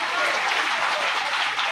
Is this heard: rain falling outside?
no